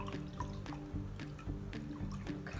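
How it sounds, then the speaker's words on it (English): Liquid poured into a measuring cup to the half-cup line, a soft trickling and dripping with faint recurring taps, quiet and continuous. "So I'm gonna go ahead and fill that up."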